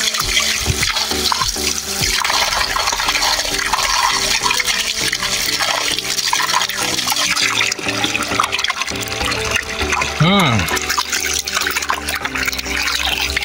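A steady, loud rush of fresh water flowing toward houses in Bhutan fills the whole stretch, splashing continuously without pause.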